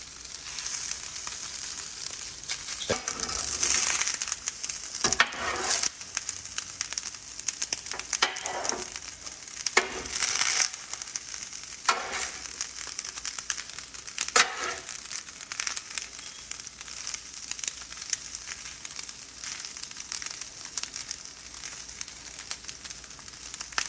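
Fried rice sizzles steadily on a hot griddle at medium heat, with scraping and crackling bursts as it is spread and pushed around, close and fairly loud throughout, no voices.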